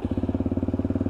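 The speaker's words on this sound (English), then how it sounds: "once again the purr of that LXR engine" A Lexmoto LXR 125cc motorcycle engine idles close by with a steady, even thumping pulse, about eighteen beats in the second, smooth and unchanging.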